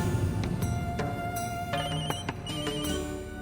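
A telephone rings in a domestic drama scene, its electronic ringtone chiming in repeated bursts over a steady background hum, with no talking.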